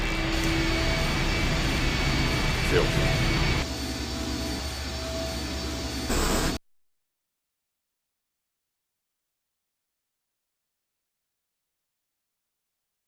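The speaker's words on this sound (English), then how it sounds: "The engine's starting up again." An engine starts up and roars in the point-and-click horror game I Have No Mouth and I Must Scream, a loud steady jet-like drone that drops in level partway through, then cuts to silence after about six seconds.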